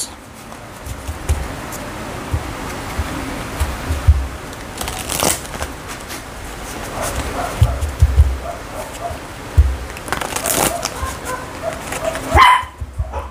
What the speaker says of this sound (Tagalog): Maingay mga aso.